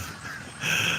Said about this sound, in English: Bunch of grackles.